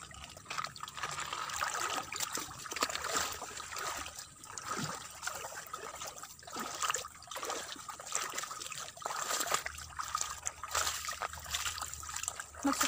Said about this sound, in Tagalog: Ito yung tubig.